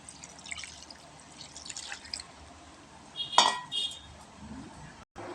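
Water poured into a pan of Malabar spinach coated in mustard oil, a short splashing burst with a faint clink of the pan, set against quiet kitchen background.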